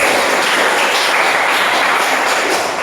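A class claps together in loud, dense applause that fills the room and holds steady throughout.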